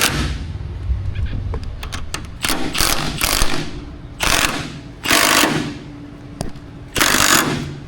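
A puller tool is run tight with a power driver to pop the steering arm off a GMT truck's steering gear: several loud, close, rattling bursts of a second or so each, separated by short pauses and clanks.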